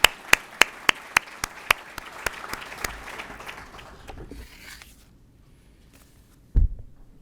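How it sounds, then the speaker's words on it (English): A handful of people in an audience clap in a short, sparse round, with a dozen or so distinct claps that quickly thin out and fade, followed by near silence and a single thump. "One more quick round of applause for Cecilia."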